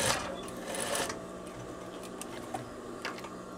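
A sewing machine stitches elastic onto fabric, running in a fast whirring burst for about a second before settling into quieter, intermittent mechanical ticking.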